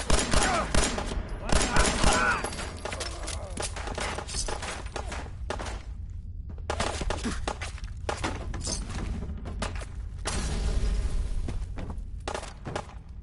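Sustained gunfire in Fallout 4 combat, with loud repeated shots and volleys filling most of the stretch, plus occasional thuds and brief gaps.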